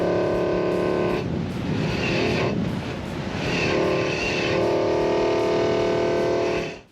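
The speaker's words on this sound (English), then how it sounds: "you can really hear that V8 motor" A Nissan Patrol Y62 V8 exhaust rumbles loud and near, with a crisp, throaty note that swells with revs twice over several seconds before cutting off abruptly.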